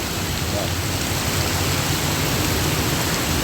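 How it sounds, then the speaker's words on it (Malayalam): Heavy rain pours down on a highway, a loud, unbroken wash of hiss that fills the whole stretch without pause. "എന്താ മഴ"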